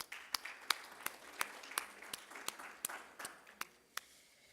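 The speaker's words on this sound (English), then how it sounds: "Once again, a round of applause for His Excellency Khalid Rashid Said Al Sha" Audience applause at an evening business festival in Sharjah, a sparse scattering of individual claps that starts fairly lively and gradually thins out, moderately distant in a large hall with no voices over it.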